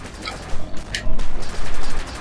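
Gunfire in the Rocketbirds: Hardboiled Chicken video game comes as loud clusters of quick, rattling shots in short bursts over a dense, busy game soundtrack.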